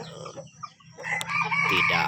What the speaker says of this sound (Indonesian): Jadi ini saya punya pikat ayam hutan muda